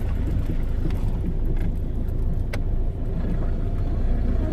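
A small child steers a car along a road toward Ashbourne, with the adult doing the actual driving. Steady, close engine and road rumble runs throughout with no break, and no voices can be made out over it.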